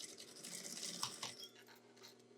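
A sewing machine stitches a waterproof picnic blanket bag, giving a steady, quiet mechanical whir with a faint rhythmic ticking throughout.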